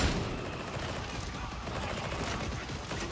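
Dense, rapid gunfire from the video game Darktide, overlapping bursts of shots crackling continuously, with voices talking over the fighting.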